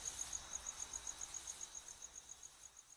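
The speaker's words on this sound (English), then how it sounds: "as the crickets fade out and the ad comes to a stop" Crickets chirp in a fast, steady high-pitched pulse, faint and distant against a quiet night-like background, with no voices.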